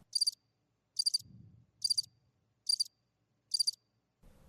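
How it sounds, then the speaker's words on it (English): Cricket chirping sound effect: five evenly spaced bursts of bright, high chirps, separated by near silence, with faint low rumbles in the gaps. "Crickets."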